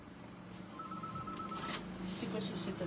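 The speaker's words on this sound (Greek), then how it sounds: "Σήκωσε εσύ το τηλέφωνο λίγο." A telephone ringing indoors at low level, a steady electronic tone heard under nearby talk and shop noise.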